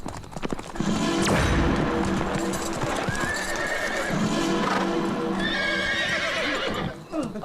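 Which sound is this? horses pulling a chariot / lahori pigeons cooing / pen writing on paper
horses pulling a chariot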